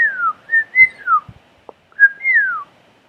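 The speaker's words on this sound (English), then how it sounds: "When you whistle, you make a loud, high sound by blowing air through your lips." A person whistles through pursed lips, a loud, clear high tone sliding in short rising and falling phrases with brief gaps between them and no voice alongside.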